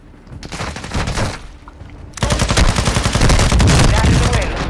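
Loud, rapid gunfire from Call of Duty: Modern Warfare II comes first as short bursts, then turns into dense, continuous automatic fire, with voices mixed in.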